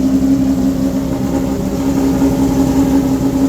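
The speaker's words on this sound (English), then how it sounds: "I've got to be careful around these running cars." A loud, steady race car engine idle rumbles nearby in a racetrack paddock with a constant low hum, no speech over it.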